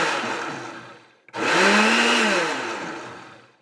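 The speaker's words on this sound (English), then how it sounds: "Got the blender on. I'm just going to pulse it a few times." A blender pulses homemade eggnog in two close bursts: a short whirr, a brief pause, then a longer loud run as the motor spins up and winds down.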